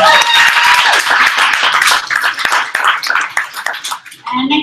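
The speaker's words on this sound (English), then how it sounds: "Another round of applause for Rebecca." Audience applause for a reader named Rebecca at a literary salon, a burst of close, loud clapping from a small crowd that thins and turns uneven toward the end, ending in a brief clatter.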